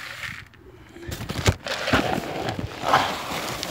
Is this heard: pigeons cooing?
yes